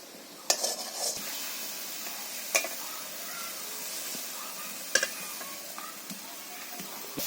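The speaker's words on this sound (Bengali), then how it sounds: "এবার মশলাগুলো ভালো করে কষিয়ে নিচ্ছি।" Spices and dried shrimp being stir-fried in a pan give off a constant bright sizzle and hiss, punctuated by occasional scraping clacks of a utensil. No one speaks.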